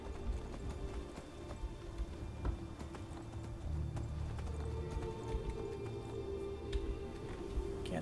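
Horse hooves clip-clopping steadily at a riding pace in Skyrim, a continuous rhythmic patter of moderate loudness over a low background rumble with no talking.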